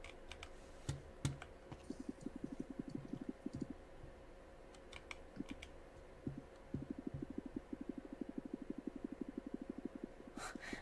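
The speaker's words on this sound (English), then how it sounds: "I can hear you tapping on your keyboard or whatever it is" Rapid bursts of light plastic taps on a laptop keyboard or touchpad during a Minecraft session, clustered in quick rhythmic runs with short pauses, close and fairly quiet over a low steady hum.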